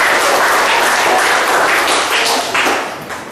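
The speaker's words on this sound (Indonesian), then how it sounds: "Beri tepuk tangan untuk adik." A classroom full of people claps steadily and loudly for a pupil, a dense burst of applause that fades slightly at the end.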